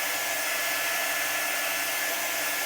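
A hair dryer blows steadily on chalk art on a washable, reusable board, giving a constant loud, close hiss-and-whir with no pauses.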